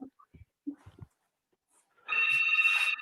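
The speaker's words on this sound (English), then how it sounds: "I just need to cut the call that's ringing on the other end." Telephone rings with an incoming call, a bright electronic ringtone starting partway through and holding steadily to the end, following a few quiet spoken words.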